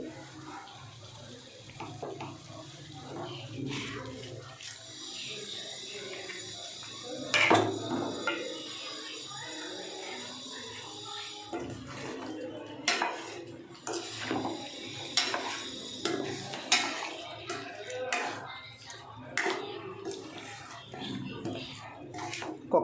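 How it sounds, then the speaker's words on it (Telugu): Rohu fish pieces are stirred into a curry in a pan, giving repeated scraping and clinking of a utensil with wet sloshing and a faint background hiss; no voices. "ఇప్పుడు ఈ చేపలు నేను కలుపుకుంటున్నాను"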